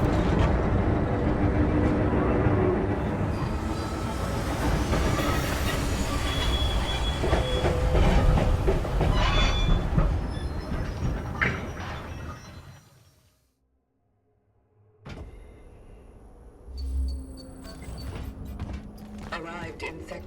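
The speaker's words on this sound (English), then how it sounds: "Arrived in sector A25. The tram won't go any further." A tram rumbles and clatters along its rails in the video game Cronos: The New Dawn, loud and continuous with squealing wheels, then drops to near silence as it stops before ambient sound resumes.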